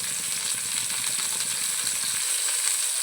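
Green chillies and tomato pieces frying in a pan for a hotel-style paneer masala curry, giving a steady, loud hiss of sizzling oil with faint stirring rattles underneath.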